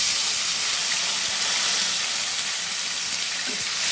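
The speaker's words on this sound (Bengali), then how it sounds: "এবার তেলের মধ্যে আমি টমেটোটা দিয়ে দেব।" Tomato sizzling in hot oil in a pan for chana matar, a steady bright frying hiss that holds evenly throughout with no voices.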